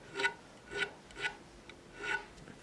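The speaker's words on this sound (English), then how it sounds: "Now, if you don't want to remove the burr, don't worry about it, because we're going to chase it with this file" A file chases the burr off a guitar fret end in four evenly spaced, soft rasping strokes, close up and quiet.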